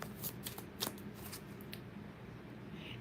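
Tarot cards are shuffled by hand close up in a run of crisp riffling flutters and quick papery slaps, followed by quieter soft rustling. No one speaks.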